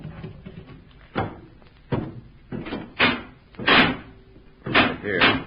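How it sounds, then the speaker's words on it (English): Wooden cases are broken open in an old-time radio drama, with a run of hard, irregular knocks, thumps and cracks repeating close by over several seconds. "Break open some of those cases."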